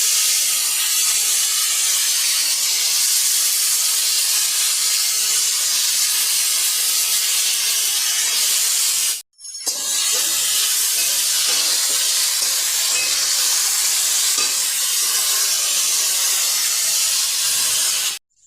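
Thinly cut potatoes fry in hot ghee with a loud, dense, continuous sizzle and hiss, broken once by a short pause midway and cutting off at the end.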